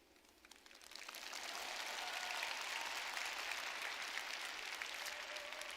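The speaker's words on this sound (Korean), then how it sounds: "박수 쳐달라고 떼 쓰고 있지 않습니까?" An audience claps, the applause building quickly from quiet to a steady, sustained round that continues to the end.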